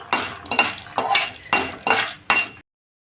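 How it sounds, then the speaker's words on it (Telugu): Popcorn kernels stirred in a metal pan, giving six bursts of close rattling and scraping, each a fraction of a second long, with short gaps between them before the sound stops. "పాపకార్న్ గింజలు వేసుకోవాలి వేసుకొని ఒకసారి ఇలా తిప్పుకోవాలి"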